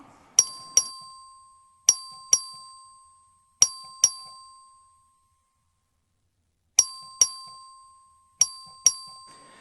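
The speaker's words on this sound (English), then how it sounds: "The clerk will ring the bell." A voting bell in a Texas Legislature chamber rings in short paired strikes, sharp clear dings with ringing decay, repeated in four groups with a pause in the middle.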